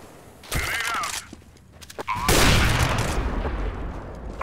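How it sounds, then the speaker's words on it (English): A CS:GO grenade goes off with a loud, booming blast that rolls into a long rumbling decay, preceded by a sharp crack and some gunfire. "Grenade out."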